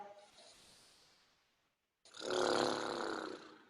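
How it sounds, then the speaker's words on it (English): A person relaxing during home yoga blows air out through loose lips in a fluttering, rumbling lip trill, close and fairly loud, following a softer exhaled breath and brief pause. "Flubber the lips."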